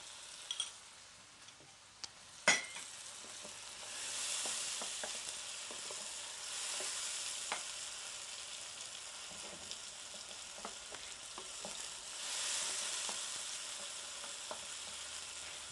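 Lamb liver frying with chopped tomatoes in a pan, a soft, fairly quiet sizzle that swells and fades, with a few sharp knocks of a utensil early on and sparse light scraping, no talking.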